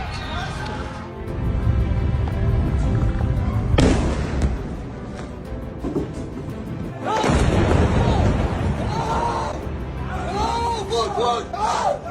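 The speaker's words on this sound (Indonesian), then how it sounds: "hanya dentuman ledakan yang terdengar dari jauh" Deep booms of explosions rumble from afar, two heavy blasts standing out over a continuous wash of crowd noise and voices.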